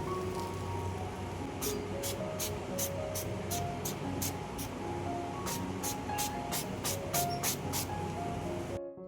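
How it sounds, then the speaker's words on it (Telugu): An oil spray bottle spritzes oil for making dosa, a series of short sharp hissing bursts in two quick runs over steady kitchen background noise. "ఆయిల్ కూడా మంచిగా స్ప్రే చేసుకుంటున్నాను"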